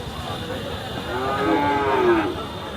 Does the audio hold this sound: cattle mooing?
yes